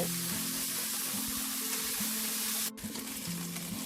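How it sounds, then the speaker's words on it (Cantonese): Salt-baked chicken wings sizzle and crackle steadily in a hot pan over low heat, a close, even frying hiss with a soft humming tone underneath and no talking. "用個細火煎到佢咧每一邊都金黃"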